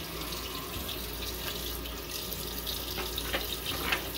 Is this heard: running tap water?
yes